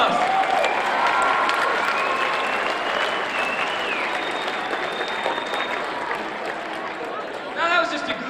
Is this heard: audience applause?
yes